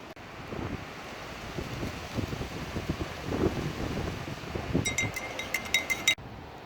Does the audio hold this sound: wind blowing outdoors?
yes